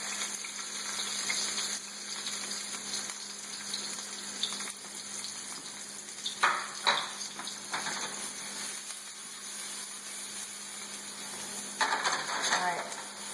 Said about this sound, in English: So now I'm going to put in the ginger and